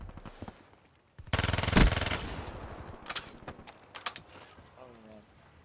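Bursts of gunfire in the Black Ops 3 multiplayer video game, a dense sustained automatic volley followed by scattered single shots, close and loud, with someone talking in German between them.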